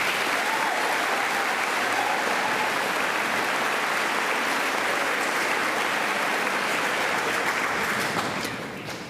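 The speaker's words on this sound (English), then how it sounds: "Let's give a round of applause not only for our graduates, but to all of those who have helped guide us this far." A crowd at a high school graduation claps loudly and steadily for several seconds, a dense wash of applause that tapers off slightly at the end.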